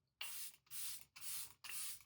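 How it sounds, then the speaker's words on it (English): Makeup setting spray mists from a pump bottle in four quick, evenly spaced hissing bursts, close and crisp with no voices. "Oh, and setting spray"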